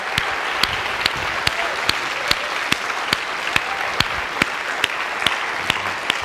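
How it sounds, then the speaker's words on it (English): A church congregation gives a big round of applause for military service members, a sustained crowd clapping punctuated by sharp regular beats throughout. "can we give our men and women that serve in our United States military a big round of applause?"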